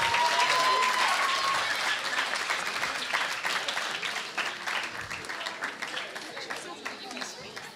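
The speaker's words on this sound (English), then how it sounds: "Please give her a round of applause." Audience applause at a youth orchestra graduation, honoring a violinist graduate; dense sustained clapping from a crowd that starts loud and slowly thins toward the end, with light voices underneath.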